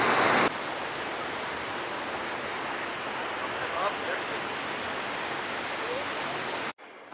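Rushing water from the small falls above the upper falls on the Banff to Jasper route, a steady broadband roar close by with no voices, briefly cutting out near the end.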